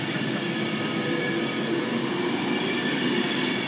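Class 390 electric train 390128 pulling out of Warrington Bank Quay station toward London Euston, a steady, fairly loud rolling hum and rumble of wheels with a faint squeal, no voices.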